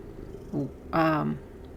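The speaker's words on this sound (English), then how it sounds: "my cat, yes, is here. That's her purring." A pet female cat purrs softly indoors. The low, quiet rumble swells in two short bursts and settles back to a faint hum.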